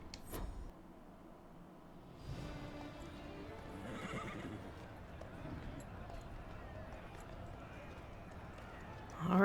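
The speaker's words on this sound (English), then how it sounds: "That's a beautiful horse." In Dragon Age Inquisition, a horse gives a clear whinny followed by clip-clopping hooves, heard over game ambience and speech.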